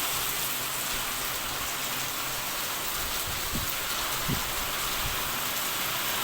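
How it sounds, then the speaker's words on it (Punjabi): A heavy, steady downpour roars without letup, with a few faint dull thuds beneath the dense hiss of rain. "ਮੀਂਹ ਫੇਰ ਜ਼ੋਰ ਦਾ ਆ ਗਿਆ ਜੀ"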